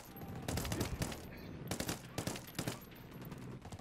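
Minigun fire in the video game Ghost Recon Wildlands, with sustained bursts of rapid automatic shots and short pauses between them, moderately loud within a busy game soundscape.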